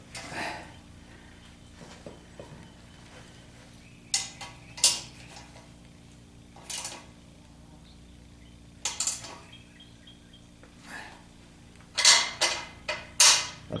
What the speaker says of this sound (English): that bolt slides in and out easily.